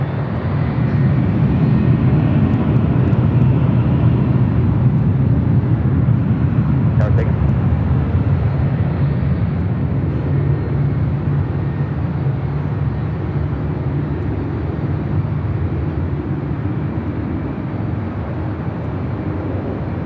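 Airplane taking off from runway 24 left at LAX, a loud, low, broad roar of jet engines that stays strong throughout, heard at some distance, with a brief faint higher tone near the middle.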